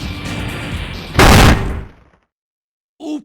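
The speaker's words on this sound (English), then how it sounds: "this part where there's an explosion that just isn't audio balanced" A loud, unbalanced explosion bursts in the video game Spyro: Year of the Dragon over cutscene audio, then cuts abruptly to silence before a short final sound.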